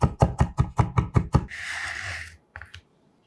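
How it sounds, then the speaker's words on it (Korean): A knife mincing two whole garlic cloves on a cutting board makes about eight quick, sharp, evenly spaced chops, followed by a short hissy rustle and one brief soft sound, all close and without talk. "먼저 통마늘 2개 다져서 알싸함을 준비하고"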